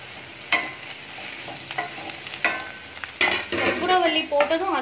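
Karpooravalli leaves sauté in a pan for an herbal chutney, with a soft sizzle under several sharp scraping stirs of a spoon against the metal, growing busier toward the end.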